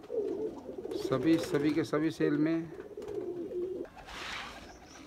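Pigeons coo softly in a low, rolling murmur beneath someone speaking close by, with a brief flurry of rustling or wing noise near the end.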